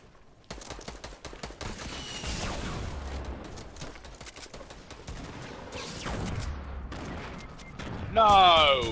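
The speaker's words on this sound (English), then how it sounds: "someone was shooting at us" Rapid video-game gunfire in Fortnite rattles in dense bursts through the clip, fairly close, ending with a louder electronic effect, while a player's voice can be heard.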